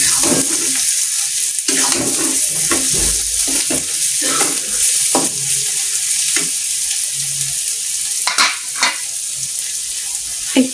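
Cauliflower stems fry with new potatoes in a pan, a loud, continuous sizzle punctuated by intermittent scrapes and knocks of a spatula against the metal, close up and with no speech.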